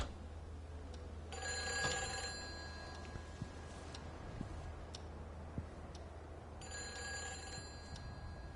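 Old-fashioned telephone bell ringing in the video game Everybody's Gone To The Rapture, two short bursts of rattling ring several seconds apart over a quiet room tone, with a clock ticking steadily and faintly in between.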